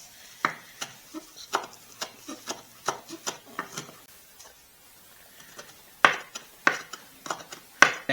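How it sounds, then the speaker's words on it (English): Parsley is chopped with a knife on a cutting board, giving a run of crisp, evenly spaced taps. There is a pause, then a few sharper knocks close by. "Next, we're going to chop up our parsley."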